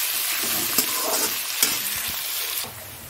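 Onions frying in a pan with salt and sugar give a steady close sizzle, broken by a few soft stirring clicks and scrapes before easing slightly at the end.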